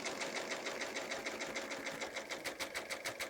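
A serger sewing machine runs steadily while stitching the edge of a fabric placemat, its fast even mechanical pulsing close and continuous throughout.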